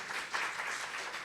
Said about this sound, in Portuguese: Palmas, gente!